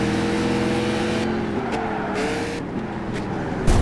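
A Shelby car with upgrades racing in Gran Turismo 5, its engine holding a steady, loud drone with slight pitch shifts and no voices.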